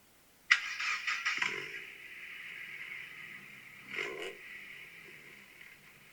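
A lowered pre-facelift Mark II Mazda MX-5 engine starts with a sharp catch, then settles into a steady idle through its aftermarket exhaust, moderately loud, with a brief blip a few seconds later.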